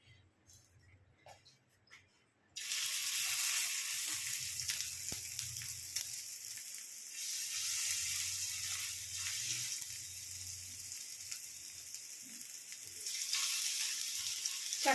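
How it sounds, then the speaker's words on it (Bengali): Sabudana tikki patties frying in hot oil over a lowered flame, a sudden loud hiss as they go in, settling into a steady, close sizzle and crackle that rises again near the end, with faint clinks. "দেখুন তেল গরম হয়ে গেছে, এবার আস্তে আস্তে একটা করে করে দিয়ে দেবো।"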